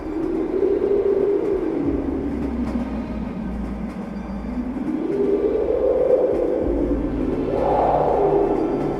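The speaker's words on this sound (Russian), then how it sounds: "Это был вой сквозняка." A moaning, wavering howl of a draft rises and falls over the steady low rumble of a moving train carriage at night in winter.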